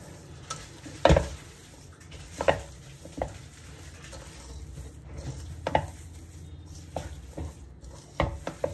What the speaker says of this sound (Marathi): तर इथे आपण पनीर पण ऍड केल्याने छान एकत्र मिक्स करून घेऊ सगळे मसाले।